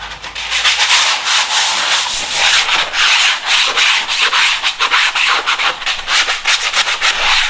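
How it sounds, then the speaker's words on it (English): Sandpaper rubbing on wood in steady back-and-forth strokes, loud and close, a continuous rhythmic scratchy rasp with brief gaps between strokes and no voices. "So, sandpaper."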